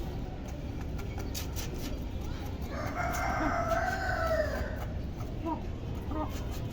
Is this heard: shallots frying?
no